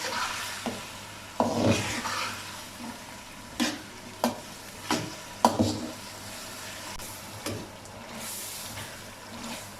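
Steady sizzling of potatoes and peas stir-fried with spices in a pan, punctuated by repeated scraping and clattering strokes of a spoon stirring, close and moderately loud.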